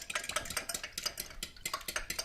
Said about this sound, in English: I'm just going to go ahead and whisk it by hand.